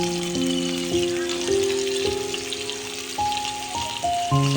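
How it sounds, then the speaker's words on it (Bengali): Cut potatoes frying in oil on an electric stove, a steady close sizzle running throughout with a faint tonal hum of music or appliance beneath, no voices. "তারপর আমি কেটে নেওয়া আলুগুলো ভাজি করতেছি।"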